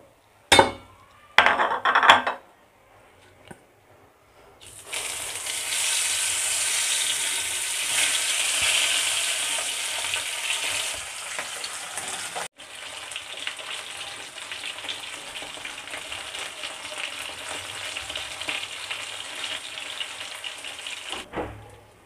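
Pabda fish frying in hot oil in a pan, a steady loud sizzle running for most of the stretch after a few clinks of utensils at the start, with a brief dip midway before the sizzling resumes.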